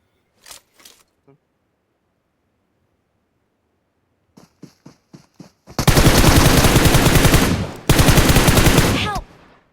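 Gunfire in PUBG Mobile: a few scattered single shots, then two long, loud bursts of rapid automatic fire, close and dominant, separated by a brief break.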